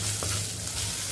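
Onion and green chilli sautéing in a pan, with a steady close sizzle and light stirring throughout, no voices.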